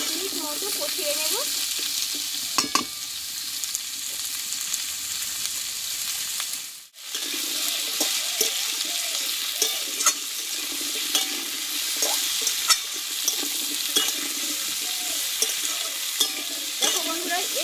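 Potato and papaya pieces being stir-fried in a pan for a vegetarian dish, a steady close sizzle with frequent spatula scrapes and one brief dip in the middle.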